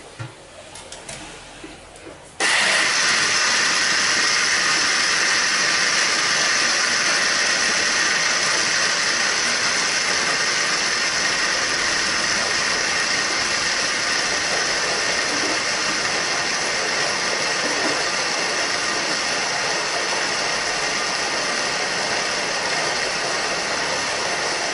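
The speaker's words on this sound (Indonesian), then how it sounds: "Kacang sampai halus. Blender sampai halus." A blender grinds peanuts until smooth for kerupuk basah, a wet cracker from Kapuas Hulu, West Kalimantan. After a few quiet seconds of faint clatter, a loud, close, constant whirring roar starts and runs on without a break.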